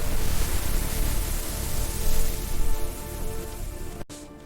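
A rain storm heard as a dense, steady hiss of rain that fills the scene at full strength, then cuts off abruptly near the end, leaving a quieter tail.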